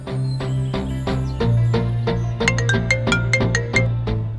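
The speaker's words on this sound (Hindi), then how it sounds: "मैं फोन कर रही हूँ, फोन उठाओ।" A melodic phone ringtone plays a repeating tune of bright tones, fairly loud and close, with no voices over it.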